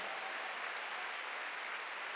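A church congregation applauds during a Wednesday worship service, a faint, even, continuous patter of many hands heard from a distance with no voices over it.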